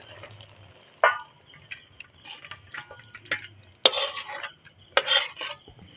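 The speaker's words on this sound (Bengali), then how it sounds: "এবার নামিয়ে দেবো একটা জায়গায় ঢেলে নেবো তরকারিটা" Cooked potato curry is scraped and tipped from a pan into a bowl, heard as a few separate bursts of metal scraping and clinking against a quiet background.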